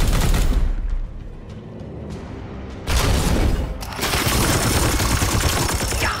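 Rapid volleys of video game gunfire from a squad's support fire in Chaos Gate - Daemonhunters: loud bursts of overlapping shots and booms that drop briefly, then surge again into sustained, dense firing.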